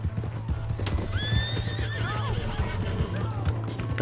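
A horse in the Red Dead Redemption 2 video game gallops with steady clip-clop hoofbeats and lets out a loud, rising and falling whinny midway through, over constant background game ambience.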